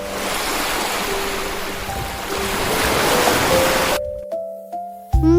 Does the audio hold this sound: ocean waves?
yes